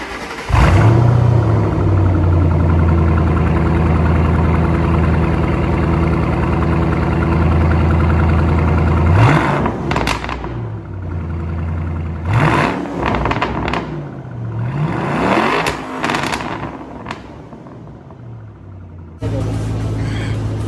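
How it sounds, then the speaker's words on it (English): A 2007 Mustang V8 with a new Borla axle-back exhaust rumbles at a steady idle, then revs sharply several times, its deep exhaust roaring up and dropping back close by. "we got the new exhaust installed. We got new hangers installed. Let's hear how it sounds."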